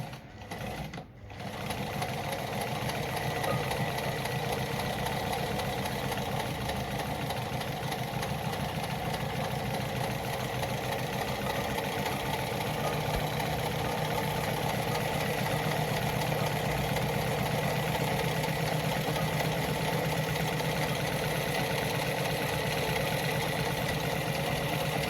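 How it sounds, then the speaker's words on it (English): A Lada model 233 sewing machine runs steadily while sewing a zigzag stitch, with a continuous close whirring motor and fast rhythmic needle clatter after a brief start, holding constant for the whole stretch. "so when I sew through now"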